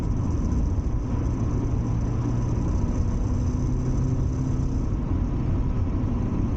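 A Mazda MX-5 NA drives in third gear on a winter road near Hethel, Norfolk, its steady mid-pitched engine drone holding constant and loud throughout with road and wind noise, no voices.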